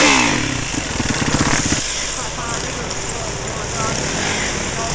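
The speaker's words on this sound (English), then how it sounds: "Then he realises that he's hitting the rev limiter." A dirt bike engine in neutral buzzes hard against the rev limiter in a rapid stuttering rhythm, then the revs break off into a rough outdoor engine roar with background noise.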